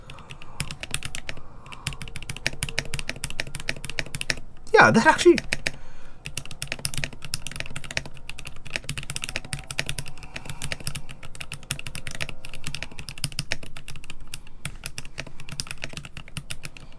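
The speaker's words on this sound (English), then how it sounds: "I was just typing" Rapid, clacky keystrokes on a mechanical keyboard fill the scene in steady bursts, briefly interrupted by a short spoken remark.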